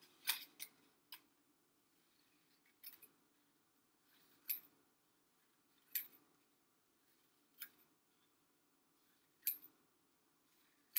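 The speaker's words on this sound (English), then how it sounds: "so I can cut those parts out" Scissors snip paper fraction pieces from a folded sheet, sharp crisp cuts arriving in about eight spaced bursts, close and fairly quiet, with no talking.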